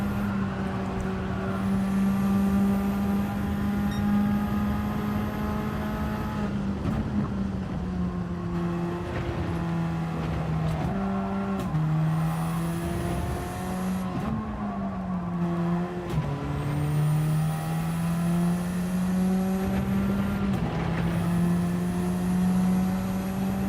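A Gr4 race car in a racing video game, running on hard tyres with front damage, gives a loud, steady engine drone whose pitch climbs and dips through repeated gear changes, with no talking.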